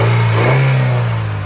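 A Nexia 2 car with a 1.6 engine, fully rebuilt, is revved hard once, the close mid-pitched engine note rising and then easing back down over a second and a half with no talk.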